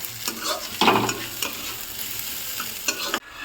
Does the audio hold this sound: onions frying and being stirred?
yes